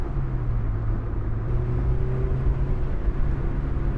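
A Honda S2000 AP1 on the road, its engine humming steadily at moderate revs under constant tyre and road rumble, heard from inside the car.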